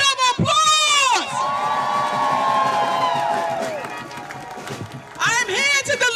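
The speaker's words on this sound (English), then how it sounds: "Give yourselves a round of applause." Crowd at a People's State of the Union rally in Kingston, New York, cheers and shouts loudly while clapping, with amplified voices and whoops rising over a sustained roar that swells again near the end.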